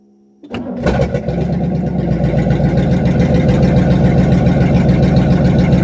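A 1964 Cadillac Fleetwood engine cranks briefly after a moment of quiet, then catches and settles into a steady, loud, close idle that runs on without pause.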